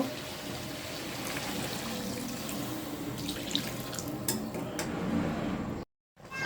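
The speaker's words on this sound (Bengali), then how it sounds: "এখন পরিমাণ মতো পানি দিয়ে দিব" Water pours steadily into a pan of chicken and bottle gourd curry, a close, continuous splashing gush that cuts off abruptly near the end before resuming briefly.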